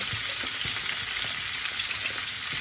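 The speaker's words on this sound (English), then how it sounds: "I like to caramelize my onions" Onions fry and caramelize in a pan with a steady, dense crackling sizzle and a few soft stirring knocks, close and fairly quiet, with no voices.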